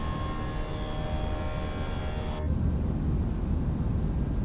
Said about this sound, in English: Start picking up some speed here so we can retract those flaps.